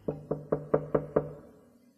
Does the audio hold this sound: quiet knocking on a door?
yes